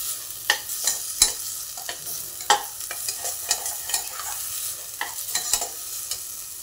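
Horse gram usal is sautéed in a pan. A utensil scrapes and stirs in distinct strokes, some louder, over a steady faint sizzle, with no talking.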